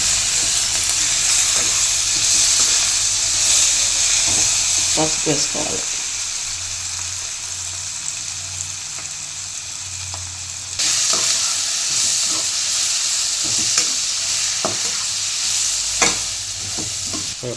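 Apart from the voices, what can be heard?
onions frying and being stirred in a pan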